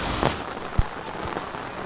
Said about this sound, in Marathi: आता पाऊस खूप पडायला लागलेला आहे